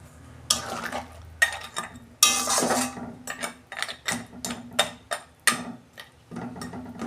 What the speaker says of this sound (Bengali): এবার আমি বেগুনগুলো দিয়ে দেবো। এই যে বড়িগুলোও দিয়ে দিচ্ছি।